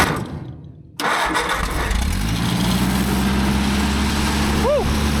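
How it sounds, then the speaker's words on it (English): A 1970s John Deere-powered four-cylinder wood chipper engine cranks after a brief quiet start, then catches and settles into a loud, steady running drone with a short rising whine near the end. "Let's fire her up and go chipping."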